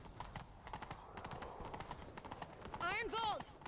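Horse hooves clip-clop at a steady gallop in The Witcher 3: Wild Hunt on Skellige, running under the whole stretch at moderate level, with a short whinny near the end and a voice speaking over it.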